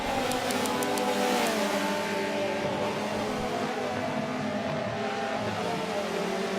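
Race cars in a racing video game pull out of pit lane, a steady dense engine drone with layered revving tones running unbroken throughout, loud and close, with no voices over it.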